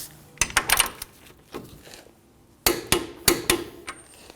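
Sharp metallic hammer blows strike a punch to indent the axle nut on a 2013-2015 Subaru XV Crosstrek front wheel, two quick bursts of several sharp hits each, close and loud with brief pauses between.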